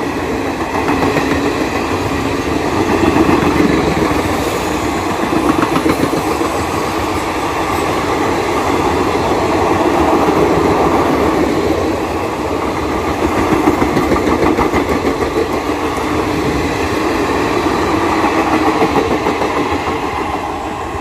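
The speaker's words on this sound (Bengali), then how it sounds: "Down Shri Jagannath express." The Sri Jagannath Express on the South Eastern Railway rumbles past in the early morning, a loud, steady roar of engine and wagons with rhythmic wheel clatter swelling and easing throughout, with no voices.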